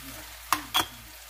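Onions hit a hot pan for a Spanish spring mix and onion frittata, two quick bursts of sizzle close by over a low background hiss, no talk.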